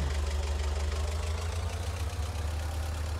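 A tractor engine in Farming Simulator 2019 runs at a steady low rumble with a knocking, idling throb, continuous and fairly loud with no talk over it.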